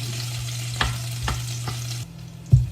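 Garlic fries toward golden brown for adobo, a quiet sizzle with a low steady hum beneath and a few distinct clicks and taps of stirring, ending on a louder knock.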